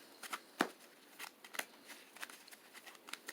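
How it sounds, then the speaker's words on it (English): A deck of playing cards being shuffled gives faint, scattered crisp clicks and soft flicks in a quiet room, with no talking. "Just shuffle again, and hopefully we get another"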